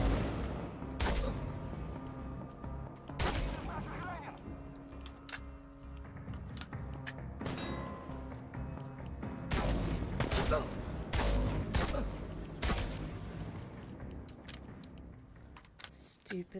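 Sharp gunshots in the survival shooter Chernobylite, fired as scattered single cracks and short clusters at moderate level, with someone talking between them.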